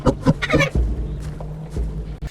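Hyena-like giggling call of a megaraptorid dinosaur in a Path of Titans game mod: a short burst of rapid clucking, cackling notes followed by lower grunting pulses, close and fairly loud, with no talk.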